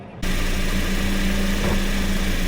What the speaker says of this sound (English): with the engine running